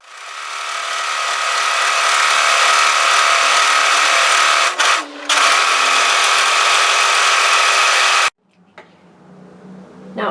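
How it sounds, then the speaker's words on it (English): An overlocker serger sews along the edge of a single layer of fabric, a loud close buzzing whir that spins up, runs steadily with one short dip, then cuts off, leaving faint handling sounds. "just overlock one layer, serge one layer right through"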